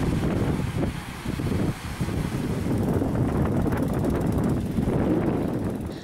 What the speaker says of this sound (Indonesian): gelombang tinggi yang disertai angin kencang